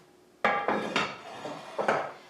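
A cake pan is set down and handled with several sharp metallic clanks and knocks in an uneven rhythm, close and fairly loud, with no talk.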